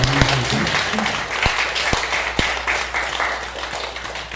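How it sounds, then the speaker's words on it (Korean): A church congregation applauding during a Sunday worship service, dense clapping with a few sharp separate claps standing out, under a low steady hum and some murmured voices. "하나님께 감사의 박수 드립니다."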